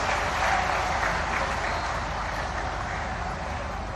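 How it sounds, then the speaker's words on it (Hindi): A crowd claps to welcome the Prime Minister at a spiritual-experience project event in Chitrakoot, making a loud, continuous wash of applause that fades slightly toward the end. "सब लोग तालियां बजाकर एक बार स्वागत कर दीजिए।"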